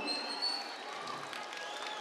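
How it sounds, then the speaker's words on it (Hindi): A crowd claps steadily at the Minjar Mela fair in Chamba, a dense, fairly faint wash of applause heard from a distance, fading slightly over two seconds. "एक बार अपने लिए जोरदार ताली होनी चाहिए"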